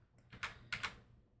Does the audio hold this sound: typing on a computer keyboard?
yes